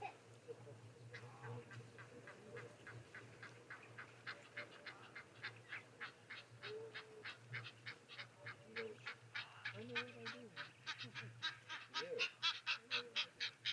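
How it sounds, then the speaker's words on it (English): Egyptian geese call at a waterhole in Etosha with rapid, repeated nasal honks that come in quickening bursts and build louder toward the end, while a voice talks quietly in the background. "and we can hear the Egyptian geese calling now."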